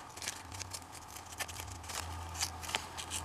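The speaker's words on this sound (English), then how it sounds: "I just take my scissors and I run it between the backing and the sticky part. And then I just cut off the number." Scissors snipping through the sticky label and backing of a diamond painting bag, a run of small, soft crisp cuts spaced unevenly over a few seconds, close and quiet.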